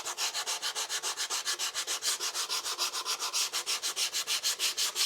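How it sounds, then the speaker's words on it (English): Depron foam sanded by hand along an edge for a model Avro Arrow tail cone, a steady run of rapid, regular rasping strokes, close and fairly loud, with no voices. "So I'll just sand across like so."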